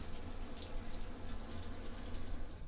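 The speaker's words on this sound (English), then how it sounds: "here's the shower, which was both hot and offered good pressure" A hot, high-pressure shower runs steadily in the cramped bathroom of an overnight sleeper train, giving a continuous broadband water hiss mixed with a low rumble, close by and without voices.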